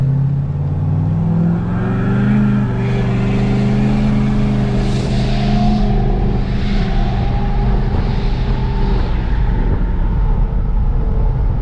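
Tuned and emissions-deleted 6.7 Powerstroke diesel truck accelerating, a loud continuous engine drone with rising turbo whir as the revs climb, heard from inside the cab.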